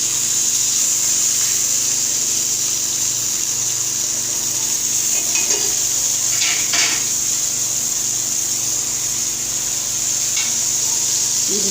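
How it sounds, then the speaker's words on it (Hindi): Muthi kebabs frying in a small amount of oil over a low flame in a pan, a steady soft sizzle with a few light clinks of utensils, close and even throughout. "बिल्कुल कम ऑयल में हमने इसे फ्राई करने।"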